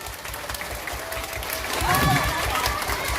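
Children clap steadily at a church service, a dense patter of many hands, with a voice briefly rising over the applause near the middle.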